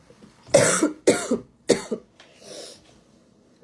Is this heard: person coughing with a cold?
yes